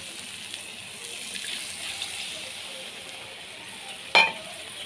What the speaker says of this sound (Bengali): এখন এখানে দিয়ে দেবো আমি সামান্য অল্প জল